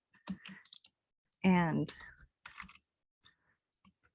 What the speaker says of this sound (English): So when you are typing in your information